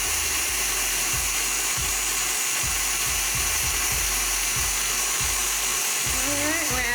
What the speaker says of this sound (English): You see the ribbons forming from the whisk attachment.